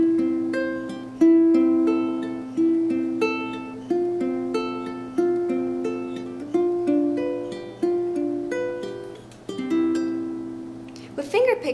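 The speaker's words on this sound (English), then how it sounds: "So you pick the inside strings first and then the outside strings, and it sounds like this." A ukulele plays an inside-out fingerpicking pattern, inner strings plucked before the outer ones, giving a steady, clear, repeating sequence of bright single notes that ring and decay, played close with no talking.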